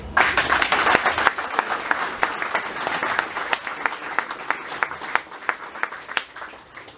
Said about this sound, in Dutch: En ik zal ergeren een applaus vragen voor haarzelf.